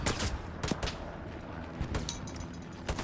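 Machine gun fire in Hell Let Loose on Utah Beach, with a few sharp bursts over a noisy battlefield backdrop.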